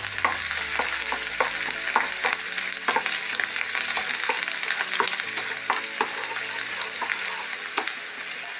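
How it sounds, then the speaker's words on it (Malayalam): Ginger frying in coconut oil in a pan gives a continuous bright sizzle, with crackles and spatters scattered steadily throughout and occasional scraping as it is stirred. "അതിൽ 2 സ്പൂൺ വെളിച്ചെണ്ണ വീത്തിൻ്റെ അതിൽ ഈ ഇഞ്ചി നമ്മൾ ഇടാം. നന്നായിട്ട് ഫ്രൈ ആവണം."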